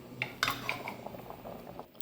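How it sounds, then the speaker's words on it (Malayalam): A ladle scrapes and clinks against a pot while mango curry with ground coconut paste is stirred, giving a few sharp metallic taps early on, then softer, quieter scraping strokes. "അരപ്പ് ചേർത്തിട്ട് കുറച്ച് സമയം ഇങ്ങനെ ഇളക്കിക്കൊണ്ട്"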